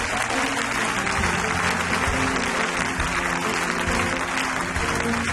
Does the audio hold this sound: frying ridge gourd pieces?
no